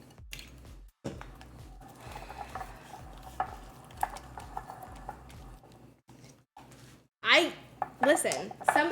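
A utensil stirs a chunky sauce in a big bowl, with repeated scraping and light clinks close by, a couple of brief pauses, and sharper knocks near the end.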